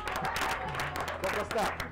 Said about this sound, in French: S'il vous plaît, applaudissements pour Tibal.